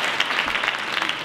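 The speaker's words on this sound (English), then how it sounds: "let's have a round of applause for all our sponsors" A short, steady wash of audience clapping fills a PechaKucha event hall, applause for the evening's sponsors that is dense and even, with no voices over it.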